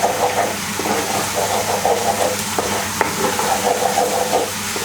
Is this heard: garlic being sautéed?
yes